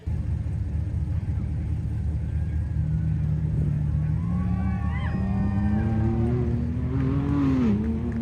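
A Ford Bronco off-road race truck engine at King of the Hammers rumbles steadily and rises in pitch as it revs and approaches, loud and close, with some faint voices underneath.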